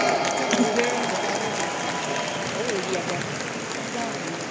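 Crowd at a Riway International gathering in the Philippines giving themselves a round of applause, a broad continuous patter of many hands clapping with faint cheering mixed in, steady and moderately loud throughout.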